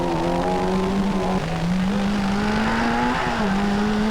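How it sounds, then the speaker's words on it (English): Citroën rally cars race at the 1995 Boucles de Spa, their engines loud and close in a continuous high-revving howl, with pitch shifts as they change gear and jostle for position. "The Citroëns battling among themselves."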